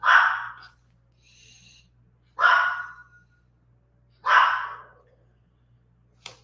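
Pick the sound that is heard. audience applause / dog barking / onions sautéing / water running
dog barking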